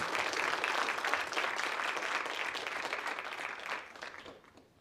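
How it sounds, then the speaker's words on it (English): A crowd applauds a drum and dance demonstration: loud, dense clapping holds steady for several seconds, then thins and fades out toward the end. "let's give Keith a round of applause"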